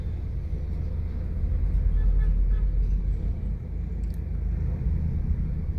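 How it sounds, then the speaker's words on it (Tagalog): Steady midday traffic rumbles along V. Mapa Street in Manila, a continuous low drone of car and bus engines, fairly close and constant with no voices over it. "yan mag-uumpisa na yung traffic"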